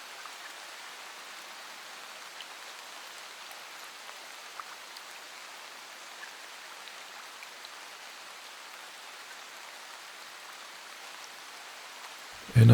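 Soft, steady rain falls in a continuous faint hiss with scattered light drops, distant and even throughout, ending in a brief louder burst.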